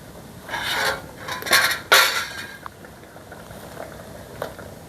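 Coconut and cumin paste being added to a simmering pineapple curry: a few scraping, rubbing pours and spoon scrapes against the pot, then quieter bubbling with light taps, close by and without speech.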